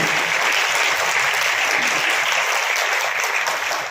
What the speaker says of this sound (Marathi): म्हणून एकदा जोरदार टाळ्या त्या सर्वांसाठी.